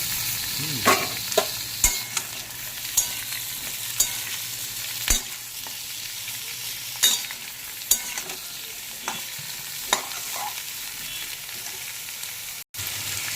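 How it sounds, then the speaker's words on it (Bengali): Potato, pointed gourd and eggplant frying with lightly browned onions in a pan, a steady close sizzle punctuated by sharp clacks of stirring, with no talking. "পেঁয়াজটা হালকা করে ভেজে নিয়ে এবার আমি সবজিটাকে ওর মধ্যে দিয়ে দিলাম।"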